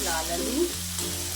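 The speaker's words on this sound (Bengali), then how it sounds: "এটা কিন্তু পুরোটাই ভাজা হচ্ছে, এর মধ্যে কোনো রকম জল বা কিছু কিন্তু যাবে না" Labra vegetables frying dry in a pan with no water, a short burst of sizzling with stirring scrapes under a faint voice-like tone.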